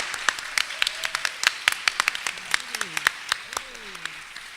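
Scattered applause from a live audience thanking a panel at a talk on wealth building, sparse separate claps rather than a dense roar, with a few voices talking quietly underneath.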